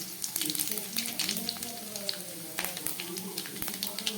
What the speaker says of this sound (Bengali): এর মধ্যে আমি দিয়ে দিচ্ছি একটু শুকনো লঙ্কা আর কাঁচা লঙ্কা ফোড়ন, আর সঙ্গে দিয়ে দিচ্ছি কিছুটা পাঁচফোড়ন